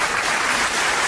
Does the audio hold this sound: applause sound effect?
yes